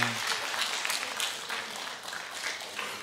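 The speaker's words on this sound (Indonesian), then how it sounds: "Boleh minta tepuk tangan dulu dong" Crowd at an evening comedy show clapping together, a broad, steady wash of applause heard from a distance at low level, with a short burst of speech right at the start.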